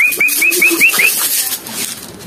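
Racing pigeons at afternoon feeding time, giving a quick series of about six short, bright rising calls with some wing flapping, fairly close, followed by scattered softer movement noises.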